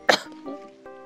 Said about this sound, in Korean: 이렇게 깊은 기침도 가끔씩 합니다